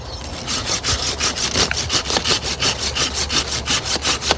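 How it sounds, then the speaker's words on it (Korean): A hand saw cuts through a jujube tree branch during winter pruning, with rapid, rhythmic back-and-forth rasping strokes, about four per second, close and loud, and no talk. "톱질 하실 때는 당기면서 힘을 주시면 쉬워요."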